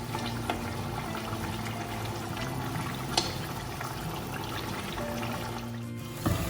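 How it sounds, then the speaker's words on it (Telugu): A steady bubbling churn of water boiling in a pot for biryani rice, constant and close, with a couple of faint clinks. "నీళ్ళు బాగా మరిగిపోతున్నాయి కదా"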